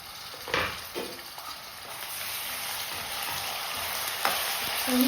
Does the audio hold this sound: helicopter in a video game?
no